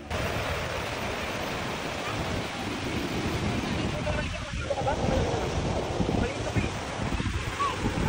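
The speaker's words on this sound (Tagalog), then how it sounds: "sabay-sabay nating pakinggan ang hampas ng alon dito sa Boracay" Ocean waves washing onto Boracay beach in the morning, a continuous broad roar of surf mixed with heavy wind buffeting, loud and close, with no clear breaks between waves.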